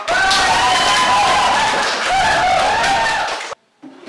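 Students applaud in a classroom at the end of a lesson, a burst of clapping mixed with chatter and a few raised voices, loud and close, then cutting off abruptly near the end.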